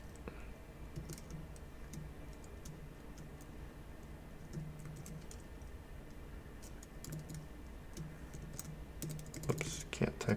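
Keystrokes on a computer keyboard while coding a React app, quiet and close, with irregular soft clicks in quick runs over a faint room hiss.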